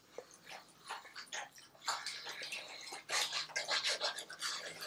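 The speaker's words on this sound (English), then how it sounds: "I'm sure you can hear my dog, he's drinking water very noisily." A dog laps water noisily from a bowl indoors, with quick wet slurps in uneven bursts that grow louder toward the end.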